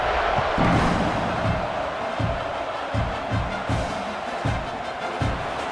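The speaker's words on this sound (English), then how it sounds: "this crowd is buzzing after that last score" A college football stadium crowd buzzing after a score: a loud, sustained roar with scattered thumps and swells, a commentator's voice faintly mixed in underneath.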